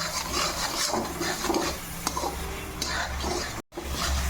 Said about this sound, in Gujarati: હવે આપણે એમાં ડ્રાયફ્રૂટ ઉમેરશું। હવે આ રીતે મિક્સ કરી લેશું।